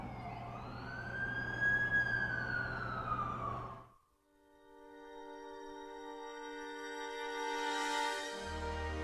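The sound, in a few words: ambulance siren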